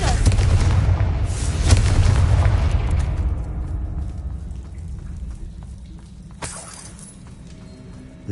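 A Confringo blast spell explodes in a Hogwarts video game: a loud broadband burst with a crackling, shattering tail that slowly fades, then a smaller second impact near the end, no voices.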